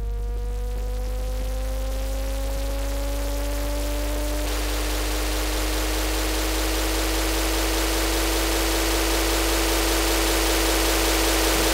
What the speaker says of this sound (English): I will switch back to my saw, and I might change that to white noise instead.